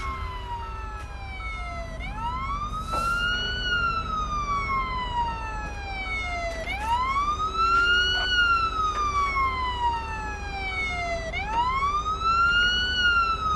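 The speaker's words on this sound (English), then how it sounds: "I can hear the siren." A police siren in the video game Police Simulator wails in long rising and falling sweeps, repeating about three times at a moderate distance over a low background rumble, with no talk.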